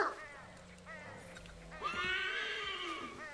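A horse neighs in the video game Assassin's Creed 3, giving a long, shrill, wavering whinny near the end after softer snorts and hoof clops, fairly close.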